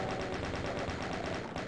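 Chaingunner enemies in Doom II fire a steady, rapid stream of machine-gun shots, continuous and loud for the whole stretch.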